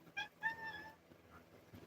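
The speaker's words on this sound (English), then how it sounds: "who is that meowing?" A house cat gives a couple of short, high meows in quick succession, fairly close, followed by quiet room noise.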